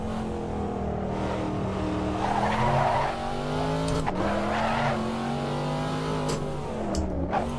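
Corvette Stingray racing in Assetto Corsa, its engine droning loud and steady with shifting revs while tires skid and squeal through hard braking and cornering, a continuous close mix with no talk.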